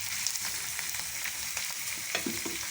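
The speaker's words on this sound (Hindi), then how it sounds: "हमारे जो प्याज हैं वो बहुत तेज़ी से फ्राई हो रहे हैं।" Onions and ginger slices frying in a pan, a steady close sizzle with crackling pops and occasional stirring scrapes, no talk over it.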